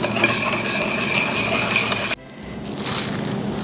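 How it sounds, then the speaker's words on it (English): Egg yolks and granulated sugar are whisked in a bowl, a loud, close, busy scraping and stirring that changes to a softer, duller texture partway through. "we're just going to mix some egg yolks with some granulated sugar"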